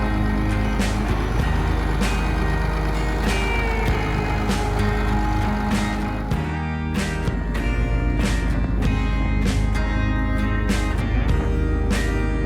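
A pickup truck being moved in a workshop during a 450+ cubic inch diesel swap, its steady reversing beeps sounding in loud repeated pulses over a constant low engine rumble, with a brief dip partway through.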